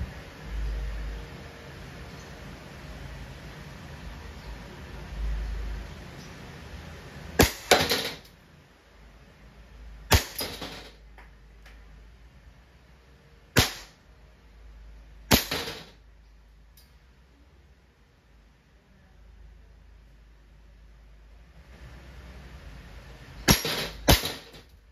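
A WE Airsoft 1911 MEU full-metal gas blowback pistol fires several sharp, loud cracking shots, spaced irregularly with quiet gaps between them, plus a quick double shot near the end.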